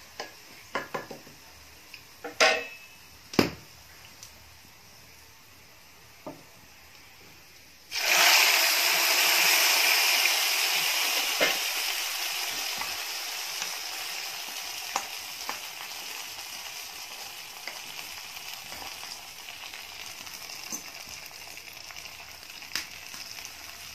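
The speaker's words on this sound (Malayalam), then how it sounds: "ഇനി നമുക്കിത് കഞ്ഞിയിലേക്ക് ഒഴിച്ചു കൊടുക്കാം." Fried shallots poured into medicinal rice porridge give a sudden loud sizzle that hisses steadily and slowly fades, preceded by a few sharp clinks of a pan and utensil.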